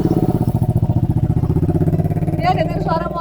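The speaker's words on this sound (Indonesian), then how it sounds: "Dia dengar suara motor" A motorcycle engine putters close by at a low, steady, throbbing pitch on a road near a cemetery on Gunung Nendeut in Tasikmalaya, and a voice joins toward the end.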